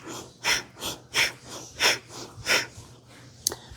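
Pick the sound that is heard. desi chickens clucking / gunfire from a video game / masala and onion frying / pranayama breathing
pranayama breathing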